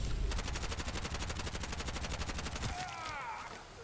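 Rapid automatic gunfire in a video game boss fight on a harder difficulty, a steady loud burst of repeated shots lasting nearly three seconds before cutting off into quieter game sounds.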